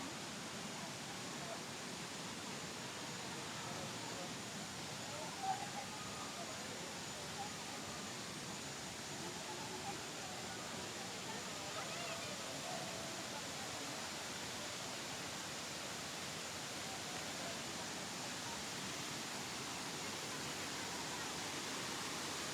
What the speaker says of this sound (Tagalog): lakas ng tubig na yan